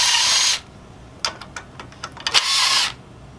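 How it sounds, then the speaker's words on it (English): A cordless power tool drives out screws from a plastic adjustment bracket on a chaise lounge, two close buzzing whirs of about half a second each with a string of small clicks and taps between them. "So I'm just removing the 3 screws."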